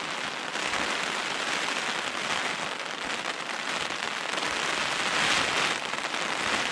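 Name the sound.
heavy rain falling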